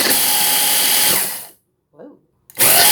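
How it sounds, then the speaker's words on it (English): An electric grinder whirs loudly as it grinds salt with dulse seaweed, a steady high roar that cuts out, leaves a brief pause with a faint rattle, then roars back on. "I'll add the salt, put the seaweed and grind it up"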